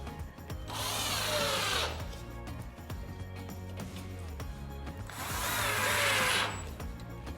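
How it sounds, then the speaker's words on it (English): Power drill driving screws through the top holes of a 4-tier swim spa step unit, two sustained whirring bursts of about a second and a half each, separated by quieter handling noise. "the final step is putting the screws through the top holes on each the bottom and the"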